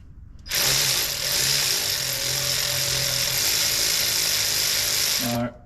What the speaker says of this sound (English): Hold your ratchet straight.